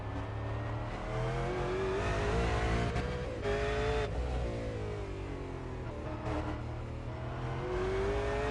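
A V8 Supercar race car drives on track at Oran Park, its engine revving hard through rising and falling gear changes, loud and continuous with a brief skid-like tone.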